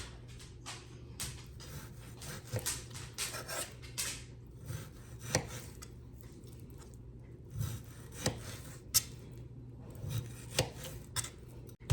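A knife slices venison tenderloin into medallions on a board, soft scraping strokes broken by sharp, irregular taps as the blade meets the surface, close and quiet.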